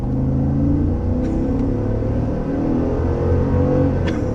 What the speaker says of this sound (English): It never gets old accelerating in the Escalade